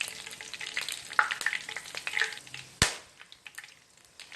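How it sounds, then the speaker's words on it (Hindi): Whole cloves and black peppercorns frying lightly in oil in a pan for prawn biryani, with faint sizzling and a few sharp crackling pops, one loud snap near the end, no voices. "बस थोड़ा सा जो है हमने इसको जो है हल्का सा लाइटली फ्राई कर लेना है"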